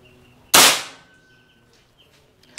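A single sharp shot from a Bocap Predator Tactical SAS 500 cc air rifle cracks out, loud and close, its burst decaying over about half a second, followed by quiet room tone and a faint tick.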